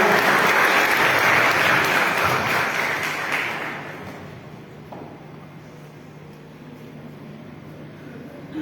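Loud applause from a congregation at a Christian wedding blessing ceremony, a dense burst of clapping that fades away after about four seconds and leaves a quiet room hum.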